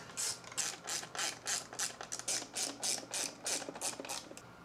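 Rapid ratcheting clicks come in about a dozen quick, regular bursts as screws are removed from a Ford F-150 dash bezel, heard close up with no talking.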